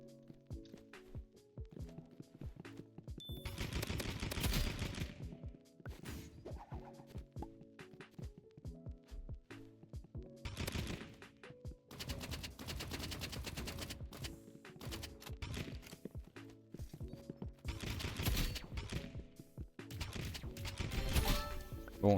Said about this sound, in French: C'est un pistolet à eau